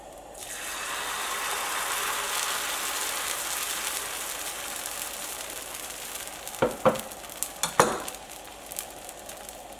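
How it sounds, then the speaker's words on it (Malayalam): Dosa batter hits a hot dosa griddle with a soft, steady sizzle that rises then settles, followed near the end by a few sharp metallic clinks and scrapes of a utensil. "ദോശക്കല്ല് നന്നായിട്ട് ചൂടായിട്ടുണ്ട്. ഇതിലേക്ക് കുറേശ്ശെ മാവ് ഒഴിച്ചു കൊടുക്കാം."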